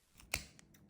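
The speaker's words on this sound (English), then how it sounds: "So with our scissors, I'm going to start from the top and just snip through each rib bone." Kitchen scissors snipping through a fish's rib bones inside the opened gut cavity: one crisp close snip followed by a couple of fainter clicks in an otherwise quiet moment.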